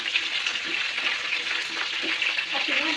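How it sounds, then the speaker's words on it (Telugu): Green chilies fry in hot oil with curry leaves, giving a loud, continuous crackling sizzle that stays close and steady, with light spits popping through. "పచ్చిమిరకాయ బాగా వేగనిచ్చాక"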